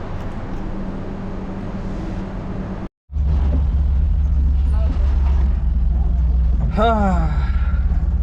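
A Tata Ace mini truck, the Chhota Hathi, drives along with a steady low engine drone, briefly cut out once before resuming, with a short squealing sound near the end.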